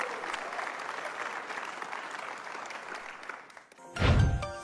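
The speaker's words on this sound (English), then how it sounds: "Round of applause." Applause from an audience at a live event, a broad steady clatter of many hands lasting several seconds, then a louder thump and burst of noise near the end.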